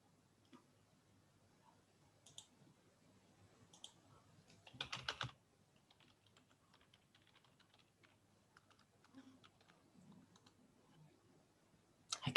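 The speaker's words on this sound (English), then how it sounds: "I can hear some typing." Quiet keyboard typing, scattered clicks and short bursts of keystrokes with a louder flurry midway, close but soft, no voices.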